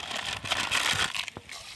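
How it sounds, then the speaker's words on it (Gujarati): India Gate rice for Kutchi khari bhat is washed by hand in water outdoors at a farm, giving a short burst of gritty, crunchy swishing and rubbing that tails off near the end. "પાણી નાખીને આપણે ભાતને ધોઈ નાખીએ"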